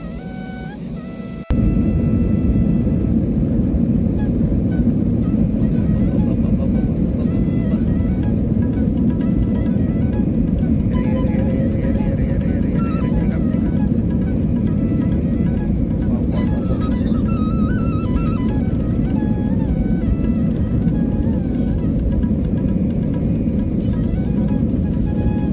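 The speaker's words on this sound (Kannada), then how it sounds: "ಇವಾಗ ಟರ್ಬೋ ಇಂಜಿನ್ ಸ್ಟಾರ್ಟ್ ಆಗುತ್ತೆ" Inside an airliner on a Kuwait to Mumbai flight, the turbine engines cut in abruptly and spool up to a loud, steady roar that fills the cabin for the whole stretch.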